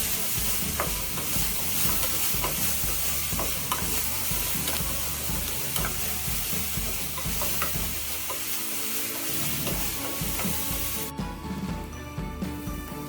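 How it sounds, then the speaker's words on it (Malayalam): Onions, green chilies and ginger fry in a pan while a spoon stirs them, a continuous hiss of sizzling with repeated scraping strokes, quieter and thinner toward the end. "ഇതിലേക്ക് ആവശ്യത്തിന് ഉപ്പും കൂടി ചേർത്തിട്ട് നമുക്ക് സബോളയുടെയും പച്ചമുളകിൻ്റെയും ഇഞ്ചിയുടെയും ഒക്കെ പച്ചമണം മാറുന്നത് വരെ നമുക്ക് നല്ലോണം ഇളക്കിയെടുക്കാം"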